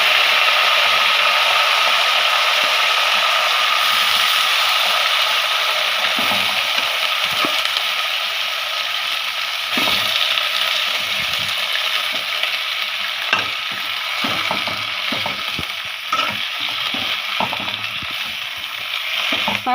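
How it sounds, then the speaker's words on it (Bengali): Leafy greens hitting a pan of hot oil and browned garlic, sizzling steadily and loudly, with scraping stir strokes and occasional splashes throughout. "আম্মু এখন এখানের মধ্যে শাকগুলো দিয়ে দিচ্ছে।"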